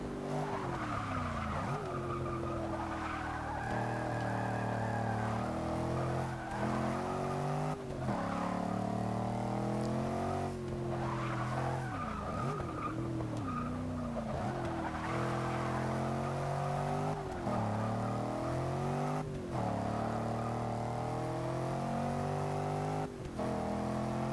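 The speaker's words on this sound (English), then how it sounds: "sound of the V8 in this car, upgraded or otherwise" The V8 engine of a 2015 Land Rover Range Rover Sport SVR in Forza Motorsport 6 roars continuously, revving up and down through gear changes, with tires squealing through corners, loud and close.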